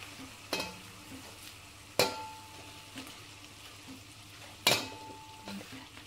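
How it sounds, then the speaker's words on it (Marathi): Mashed potato mixture for batata vada being stirred in a pan, with a few sharp utensil scrapes against the vessel over a faint background hiss. "हे मिश्रण आता सगळं एकजीव करून घ्यायचं व्यवस्थित।"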